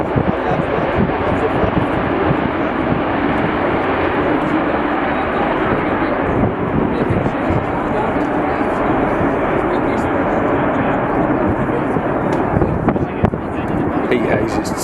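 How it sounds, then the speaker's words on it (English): Loud, continuous roar of a military jet on afterburner, sustained and broadband throughout at an airbase during an air exercise, with a voice talking faintly beneath it. "Problem with his afterburner there."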